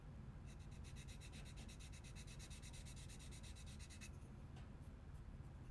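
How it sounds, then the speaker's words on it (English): A 600-grit sanding block is rubbed across a small model part in quick, even strokes that make a soft scratching rhythm. The strokes stop near the end, and the sound stays very faint and close. "Now I'm going to grab my 600 sanding block here."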